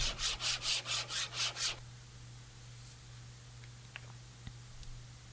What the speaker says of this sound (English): So here I'm sanding down the thickness of that headstock veneer